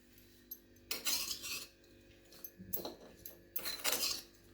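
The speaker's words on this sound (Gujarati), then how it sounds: "હવે આ બધી વસ્તુને આપણે મિક્સ કરી દઈશું." A spoon clinks and scrapes around a bowl, mixing papad topping ingredients, in three short bursts of close metallic tapping separated by quiet pauses.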